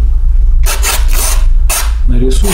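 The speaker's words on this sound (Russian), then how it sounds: "можно рисовать карандашиком" A pencil rasps across a dried oil painting in close, loud scratchy strokes, two long passes and a shorter one, with a brief murmur of voice at the end.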